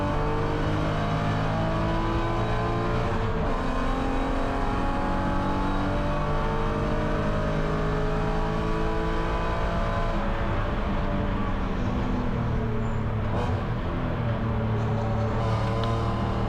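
A BMW E90 spec race car driving in the rain at Watkins Glen during a Gridlife GLTC race, its engine droning steadily and loudly from the cabin with shifting pitch throughout, alone without talk.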